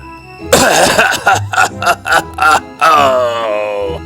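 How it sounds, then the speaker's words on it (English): A person coughs hard in a rapid series of harsh bursts, then finishes with a longer strained, rasping breath, close and loud. "He began to cough."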